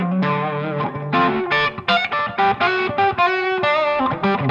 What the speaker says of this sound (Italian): Metto un po' di eco sotto per avere un po' di sfondo sonoro.